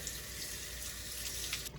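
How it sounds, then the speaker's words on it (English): Cold water runs from a tap over strained homemade butter in a bowl, a steady close splashing hiss throughout that cuts off abruptly at the end. "we're gonna rinse this with cold water"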